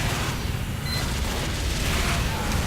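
A sentry gun fires in a video game, a loud, sustained, booming barrage of rapid shots that fills the whole stretch with no gaps.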